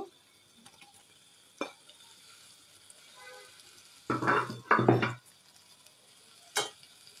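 Fried fish pieces slid into a pan of hot oil, bursts of sizzling and spatula clatter around the middle, with a single sharp clink near the end over a quiet background.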